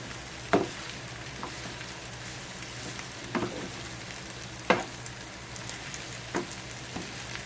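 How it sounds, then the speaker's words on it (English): Tomatoes being stirred in a sizzling pan until lightly wilted, a soft constant frying hiss broken by a few sharp scrapes and clicks of the utensil at irregular intervals. "now I stir them in until they are lightly wilted"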